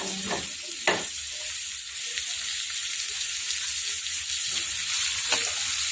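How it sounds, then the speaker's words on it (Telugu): Thinly sliced onions and green chillies fry in a pan for a raw banana curry, giving a steady close sizzling hiss with a few soft stirring scrapes and crackles, no voices. "సన్నగా కట్ చేసి పెట్టుకున్న ఆనియన్స్ ఉన్నాయి కదా ఈ ఆనియన్స్ వేసేసేయాలి అలాగే గ్రీన్ చిల్లీస్ కూడా వేసేయాలి"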